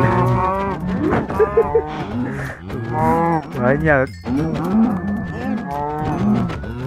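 Several cows moo loudly and repeatedly in the video game Minecraft, drawn-out overlapping lowing calls close up, with a brief spoken word among them.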